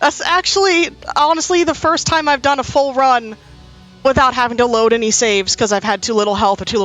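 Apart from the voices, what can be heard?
No everyday noises stand out.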